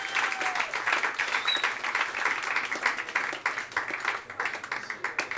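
An audience at a Portland music show claps for a performer, a sustained, fairly close patter of many hands with individual claps popping out in a quick, uneven rhythm and no clear talk.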